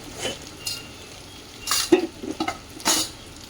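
Spices frying in a pan while being stirred, with soft sizzling and a few brief scraping strokes of a spoon against the pan, close and moderately loud.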